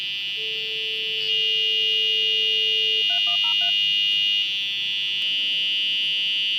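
A GHz wave detector signalling near a GSM phone during a call: a steady high electronic tone with a lower held beep, then a short burst of stepped dial-like bleeps, continuous and loud.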